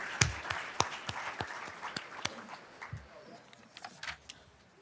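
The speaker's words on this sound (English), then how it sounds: "Please stand so we can give you a round of applause for all that you and Tom do for Penn State." A Penn State faculty event audience gives a round of applause for a supporter; a modest, fairly faint patter of scattered claps continues for several seconds, loosening toward the end.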